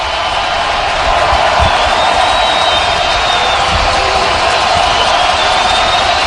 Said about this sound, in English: Crowd on his feet. Noise rising.